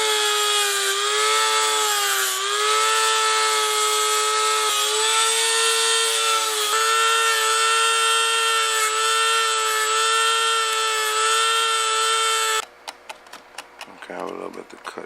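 A hydroboost hose on a Coyote-swapped Foxbody Mustang being cut with a power tool, giving a loud, steady whining drone for about twelve seconds, then a few quieter clicks and scrapes.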